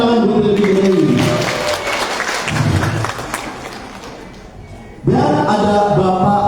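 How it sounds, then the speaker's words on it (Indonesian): Audience applause at a crowded visitor event in a hotel hall, a loud burst of clapping that fades over several seconds before music or a voice swells back in near the end. "Tepuk tangan Bu Dewi."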